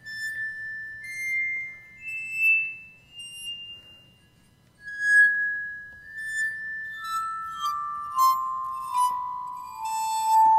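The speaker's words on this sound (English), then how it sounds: "This is just a xylophone, and I was bowing it on my lap like this" A xylophone played with a bow rests on a lap, giving long eerie sustained tones that glide between pitches with shimmering overtones, played alone and up close.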